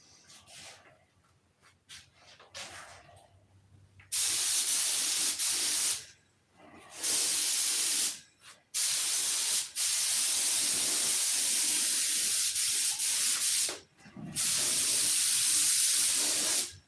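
Guide coat sprayed onto a car body in long aerosol hissing bursts, several separate passes with short pauses between, close and fairly loud, no talking.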